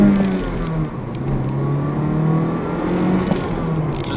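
A 2018 Honda Civic LX with a manual gearbox pulls along a country road, its engine droning steadily and rising in pitch through the gears, loud and close from inside the car, with no talking.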